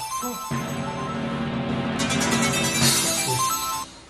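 A telephone rings steadily for several seconds, a bright repeating electronic ring tone close by, with no talking.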